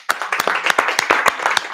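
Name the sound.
applause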